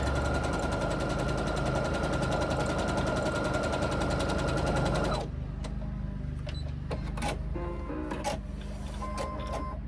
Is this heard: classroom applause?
no